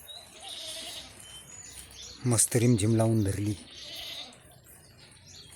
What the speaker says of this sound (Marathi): ते बघा तिकडे 2 शेळ्या बांधल्यात